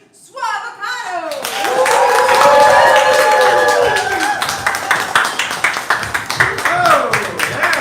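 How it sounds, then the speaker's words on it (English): An audience claps and cheers to welcome an improv group to the stage, a dense swell of applause that builds after a brief voice and then tapers into scattered claps while someone talks over it. "We're going to warm up the room with our applause"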